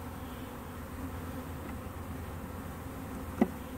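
A faint, steady honeybee buzz hums in the background, low and continuous, with a brief soft tap near the end.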